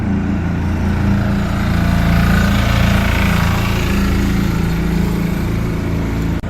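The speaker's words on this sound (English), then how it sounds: "Oh, it's a gritter." A gritter truck passes on a cold evening, its engine a loud, steady low rumble with a gritty rattling wash of spreading salt across the whole stretch, swelling slightly in the middle and trailing off at the end.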